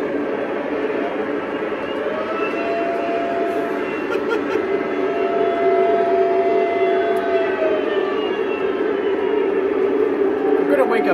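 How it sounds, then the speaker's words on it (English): A Lionel US Army Veranda Turbine model train sounds its siren, a steady wailing tone with slow pitch sweeps held for the whole stretch over a constant mechanical rumble, loud and close. "I'm gonna wake up people in my neighborhood with this siren."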